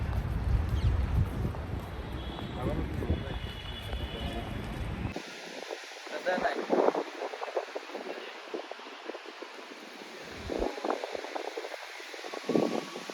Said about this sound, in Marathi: हवा पण खूप सुटली थंडी हवा येते थोडी